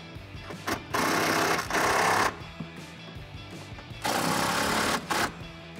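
A power tool tightens bolts on a 2019-2020 RAM 1500 S&B cold air intake, giving two close, buzzing mechanical bursts of about a second each, separated by a quieter gap.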